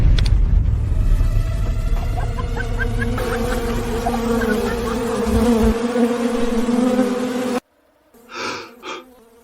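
A swarm of wasps on a barren mountain ridge buzzes loudly and continuously, a dense droning hum filling the space before cutting off abruptly, followed by a couple of faint breathy sounds.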